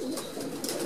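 Pigeons coo in a breeding loft, a soft, close, rolling murmur that carries on without a break.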